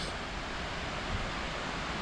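Steady broadband rush of falling water at the lakes near Jajce, a constant close wash with no breaks and no voices.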